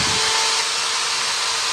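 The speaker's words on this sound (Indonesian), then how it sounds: "saya menggunakan bor, mencobanya dengan bor." An electric drill runs through an AC SCR dimmer speed controller with a loud, steady whine and hum that continues without a break and has no talking over it.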